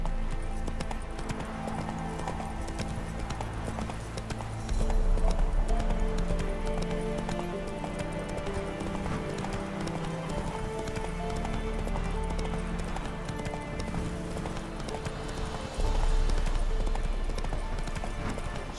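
Roach the horse gallops in The Witcher 3, a steady clip-clop of hooves running under game music and ambient sound, fairly quiet and continuous throughout.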